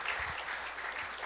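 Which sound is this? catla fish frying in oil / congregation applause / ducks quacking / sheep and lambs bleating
congregation applause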